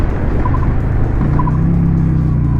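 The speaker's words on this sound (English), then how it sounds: "that tire screeching that you just heard is a direct result of no slipper clutch" The rear tire of a Honda Shadow 750 motorcycle, with no slipper clutch, screeches in short chirps and then a longer squeal, loud and close over steady engine and road noise.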